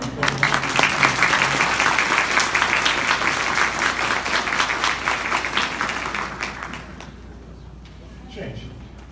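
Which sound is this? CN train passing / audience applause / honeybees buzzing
audience applause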